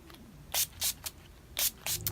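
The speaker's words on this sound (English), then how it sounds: "set our face using the NYX Dewy Finish Setting Spray" Several short hissing bursts of NYX Dewy Finish Setting Spray misted onto a face, arriving in two quick clusters of near, sharp sprays separated by brief pauses.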